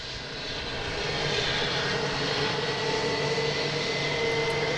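Steady broadband roar of an Airbus A321 jet engine at Boston Logan airport, a continuous rumble with hiss that swells slightly over the first second and then holds loud and even, with no talking.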